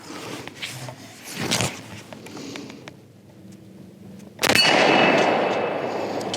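A Ruger falling block rifle fires one loud shot with a sharp crack and a long, rolling outdoor decay. Softer handling knocks and a thump come before it.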